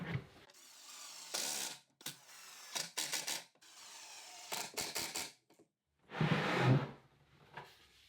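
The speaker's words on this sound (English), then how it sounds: "I'll use 3 1¾ screws for a stronger connection." A screw gun driving 1¾-inch screws into plywood cabinet parts, heard as several short, close mechanical whirring and ratcheting bursts separated by pauses, with no talk.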